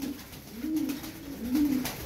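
Pigeons coo in soft, low, throaty phrases, two or three rolling calls close by with faint background noise.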